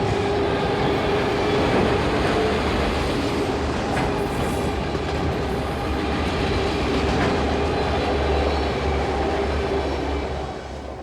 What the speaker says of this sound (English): this train was all auto racks